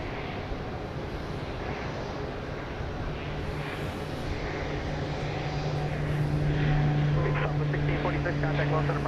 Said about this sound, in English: It's a 737-800. It's a 12-year-old aircraft.